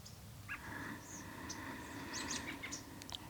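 Faint birds chirp in short, scattered tweets outdoors over a steady low background hum.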